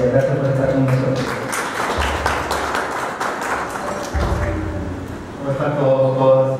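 An audience applauds at a talk or presentation, a sustained wash of many hands clapping at moderate loudness under a voice speaking, with a low hum and tonal sounds framing it.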